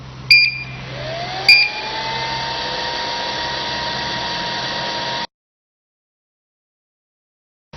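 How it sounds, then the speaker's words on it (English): A YH 3042 3D vacuum heat transfer machine starts up with two short beeps, then a steady loud whirring hum with a rising tone that runs for several seconds before stopping abruptly into silence. "And let's start the machine now."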